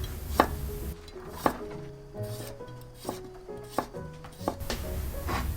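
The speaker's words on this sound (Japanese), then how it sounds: "そしてニンニク1かけは薄切りにします" A kitchen knife thinly slices a single garlic clove on a cutting board, giving soft, repeated cuts at an uneven pace over quiet background music.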